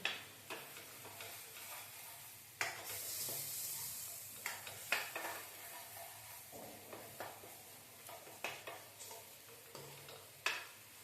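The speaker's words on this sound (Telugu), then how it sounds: "మసాలా అంతా వేగనిచ్చుకున్నామండి వేగితే టేస్ట్ బాగుంటుందండి" Masala for a fish curry fries in oil in a pan, giving a soft continuous sizzle with faint scattered ticks and crackles, quiet and close, with no voices.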